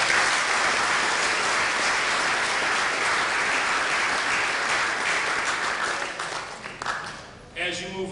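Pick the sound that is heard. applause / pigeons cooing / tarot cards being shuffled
applause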